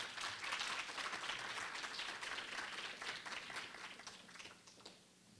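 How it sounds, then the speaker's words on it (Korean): Steady applause from an audience at a university graduate school entrance ceremony, a dense patter of clapping that holds for several seconds and then fades out. "뜨거운 박수로 부탁드립니다."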